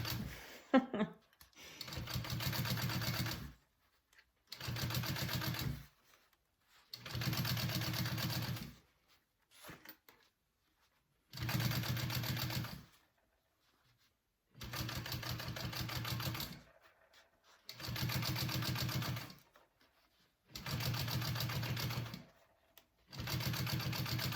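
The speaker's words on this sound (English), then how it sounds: "I'm going to sew these two panels completely together" A sewing machine stitches bowler bag panels together in repeated bursts of steady running, about eight runs of a few seconds each separated by short pauses, close and clear with no talking.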